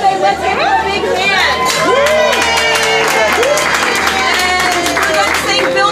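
A children's birthday crowd at a Build-A-Bear store claps and cheers loudly, with excited shouts and chatter on top and voices calling out over the steady applause.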